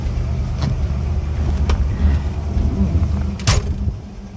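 A 1966 Ford Mustang convertible GT, fitted with a C4 transmission, drives along with a steady, loud low rumble throughout, broken by a few brief sharp noises.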